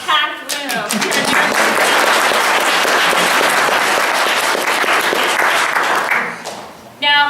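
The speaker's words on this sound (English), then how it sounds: "give yourselves a round of applause" A packed room at a candidate forum in Mariposa breaks into loud, continuous applause and clapping for several seconds, fading out before a speaker resumes talking.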